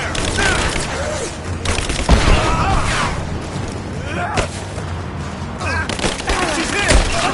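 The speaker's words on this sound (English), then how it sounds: "Give me suppressing fire!" Sustained suppressing gunfire in the Tomb Raider video game, a dense, loud barrage of overlapping shots and booms with sharp bursts around the two- and seven-second marks, with faint voices mixed in.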